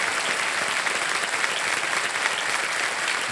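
Sustained applause from a KBC Season 15 studio audience celebrating a contestant's big win, dense and steady throughout, with no talking over it.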